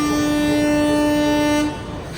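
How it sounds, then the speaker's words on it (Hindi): An ALCO diesel locomotive from the Itarsi shed, shunting a rake, sounds a loud sustained horn tone close by for nearly two seconds and then cuts off, leaving a low rumble. "इटारसी शेड का डीजल लोकोमोटिव शंटिंग कर रहा है यहाँ पे"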